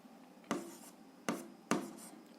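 A pen writes a fraction into a table during a seventh-grade algebra exercise, giving three short, crisp scratchy strokes spaced apart against a quiet background.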